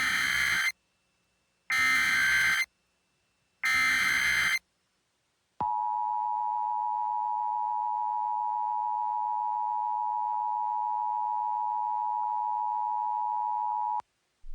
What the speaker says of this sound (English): This is a required monthly test of the emergency alert system